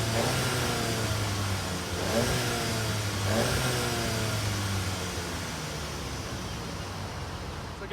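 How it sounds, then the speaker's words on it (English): A 2019 Volkswagen Jetta GLI 35th Anniversary Edition with dual exhaust tips revving up through a few rising pulls, a steady loud engine drone heard close without talk. "it does have dual exhaust tips, which just, it makes it sound a lot better than the standard little TSI"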